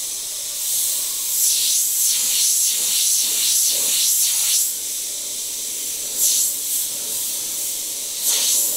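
An Iwata HP.BCS siphon-feed airbrush sprays paint in a steady close hiss, with short sharper bursts as the trigger is pulled again and again over several seconds, and no voices.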